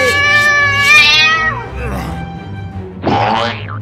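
A cartoon cat lets out a loud, drawn-out meow that bends in pitch, then gives a second rising yowl after a short pause, with cartoon sound effects around it.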